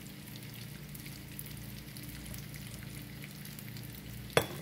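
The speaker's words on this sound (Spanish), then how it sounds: "Entonces aquí los voy a poner a freír." Small tortilla pieces fry in a pan over a raised flame, making a steady, close sizzle and crackle of hot oil, with a sharp clack of a utensil near the end.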